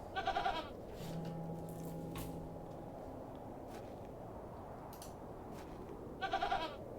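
A goat in the Hob's Barrow adventure game bleats twice, once at the start and again near the end, each call short and wavering over a steady low ambient rumble with faint rustles between.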